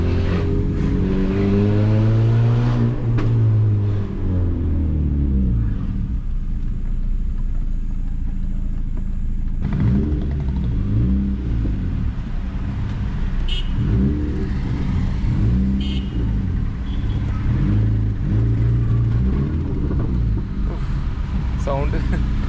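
A 2008 Honda Civic Sport engine, 140 hp, revs while driving, rising and falling through the gears in repeated sweeps over road noise, with someone talking throughout.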